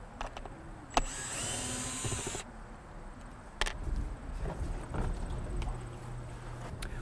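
A cordless drill whirs in a short high burst, followed by clicks, knocks and handling noises of screws and a septic treatment tank lid being worked.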